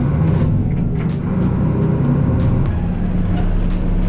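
A heavy truck rumbles nearby as it pulls in to haul a load on a work site, a deep steady engine drone with brief hissy bursts like air brakes, no talk.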